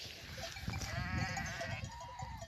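Sheep bleat on a mountain pasture, with one clear wavering bleat close by over a low rumble of the flock moving.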